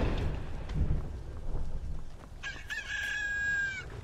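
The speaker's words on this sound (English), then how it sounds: "I think that rooster is arguing with me" A rooster crows in the video game Skyrim, one long drawn-out cock-a-doodle-doo rising clearly over a low rumbling background after a few quiet seconds.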